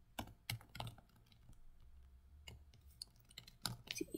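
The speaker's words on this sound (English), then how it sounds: "if I'm trying to type in J right now, it won't let me type it in" Computer keyboard typing while entering input into a calculator program: scattered, quiet key clicks in irregular bursts, close to the mic, with no talking.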